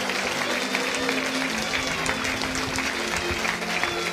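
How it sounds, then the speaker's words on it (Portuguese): A congregation at a church worship gathering gives a dense, steady round of applause welcoming a preacher, loud and sustained throughout with a crowd murmur underneath. "Recebe o servo de Deus com uma salva de palmas"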